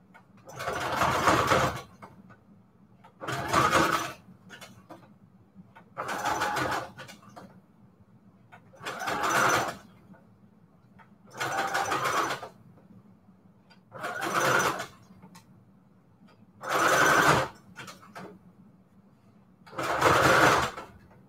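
A sewing machine stitching a zigzag on a Christmas jar embellishment runs in eight short, even bursts of rapid whirring, separated by brief pauses, close and fairly quiet, with no one talking.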